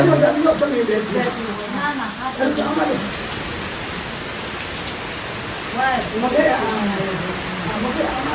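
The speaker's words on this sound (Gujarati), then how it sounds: "ફૂલ વરસાદ" Steady heavy rain pours throughout, a dense hiss of water, while people talk over it in bursts near the start and again toward the end.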